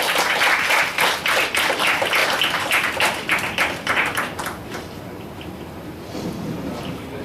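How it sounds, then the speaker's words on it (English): An audience at a Toastmasters youth leadership workshop gives dense, loud applause for about five seconds, then it thins and fades into a quieter murmuring room. "Big round of applause, please."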